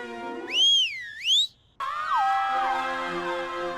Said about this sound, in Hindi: लेकिन सीटी बजाने के बाद ही भागना है